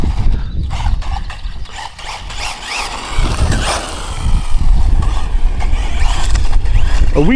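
Hosim M13 Moxlin RC truck electric motor whining and revving hard through a wheelie, a steady buzzing drive with surging pitch and clattering wheels, close and loud, with no talking.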